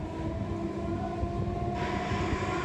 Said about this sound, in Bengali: ক্যানিংগামী ট্রেনে যাত্রা শুরু হয়েছিল আমাদের